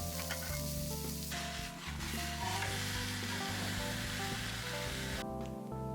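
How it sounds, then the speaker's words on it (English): Beef shanks sear in hot oil in a skillet, giving a loud, steady, close sizzle that runs throughout with slight shifts in intensity. "In your skillet of choice, heat up some oil and brown both sides about 2 to 3 minutes each."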